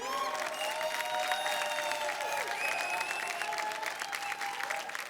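A large audience at a folk singing reality show bursts into sustained, dense applause, with cheers and whistles mixed into the steady clapping, loud and continuous throughout.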